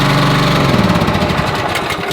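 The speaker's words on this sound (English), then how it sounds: "Big old fat Honda engine on here," A big Honda engine runs on a Turfware TR360 ride-on spreader sprayer, a loud, close, steady idle with a low rumbling throb and slight vibration, and no voices over it.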